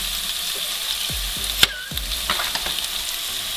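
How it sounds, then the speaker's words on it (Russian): Vegetables fry and get stirred in a pan over medium heat while eggplant is cooked, giving a steady close sizzle broken by a few scraping utensil strokes and light clinks. "Жарим все на среднем огне, не на очень большом."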